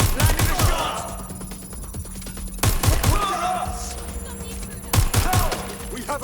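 Gunfire in the video game Watch Dogs: Legion: three loud clusters of quick, sharp shots separated by a couple of seconds, with echoing tails and faint talk in between.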